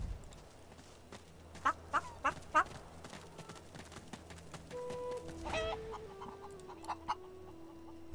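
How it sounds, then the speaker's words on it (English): Chickens cluck in a farmyard in the video game Divinity: Original Sin 2, a short run of clipped calls over a low ambient bed, followed by game interface tones. "Some chickens?"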